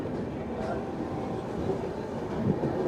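A train leaving Hazur Sahib Nanded picks up speed, rumbling steadily along the tracks, a continuous low roar with faint rattling, close and fairly loud throughout.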